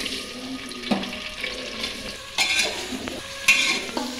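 Chopped onions sizzle in hot mustard oil in a pan, with steady frying hiss and three distinct scraping strokes of a spoon stirring them, close and fairly loud.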